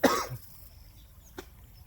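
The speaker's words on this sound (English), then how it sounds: "I'm going to cough again." A single sharp cough from a person outdoors, close and abrupt, followed by quiet with one faint click.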